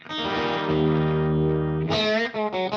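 Electric guitar through a Cornerstone Aquarium Vibe pedal, with a swirling, warbling modulation effect, a sustained chord ringing out, then a few choppier strummed chords near the end.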